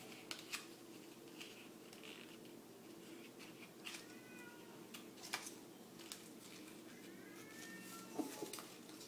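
A cat meows faintly a few times indoors, with quiet rustling and clicks from paper star-making nearby and no talking.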